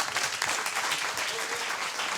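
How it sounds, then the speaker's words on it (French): Brief burst of audience applause for the event team at a bioethics conference closing, a steady, full patter of many hands clapping at moderate loudness from start to finish. "je pense qu'on peut l'applaudir"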